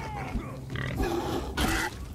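Pig in the Far Cry Primal video game, a few loud grunts and squeals in short bursts over a constant game background, with no speech.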